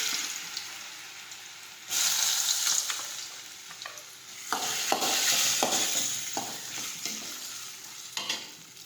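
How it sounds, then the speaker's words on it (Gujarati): Mustard seeds, cumin, asafoetida and chopped potatoes frying in hot oil for batata poha, a faint crackle that jumps to a loud hiss as ingredients drop in, then steady sizzling with stirring scrapes nearby. "હવે આપણે તેમાં રાઈ અને જીરું નાખી દઈશું. હિંગ નાખીશું. સમારેલા બટેટા નાખીશું."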